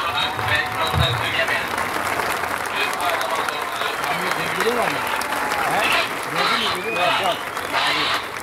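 Outdoor air show audience for the Turkish Stars aerobatic team applauding, sustained scattered clapping across a crowd with an announcer talking over it throughout.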